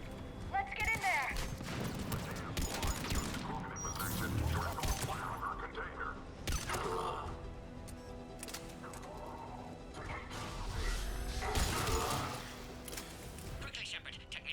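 Gunfire at a checkpoint in Mass Effect, with bursts of weapon shots, crashes and mechanical clatter scattered through a busy combat mix, while voices call out over it.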